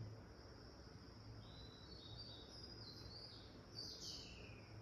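Birds chirping faintly in the distance before dawn over a steady background of crickets and insects, with no talking.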